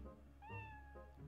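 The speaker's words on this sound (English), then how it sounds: "Meow." A cat meows in the video game Twilight Princess HD, one drawn-out, rising then falling meow standing out clearly over a low steady background hum.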